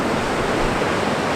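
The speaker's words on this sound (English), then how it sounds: "there's all kinds of waves and surfers" Ocean surf breaks at Bondi Beach on a sunny day, a steady, dense wash of white noise with no distinct wave crashes, close and fairly loud throughout.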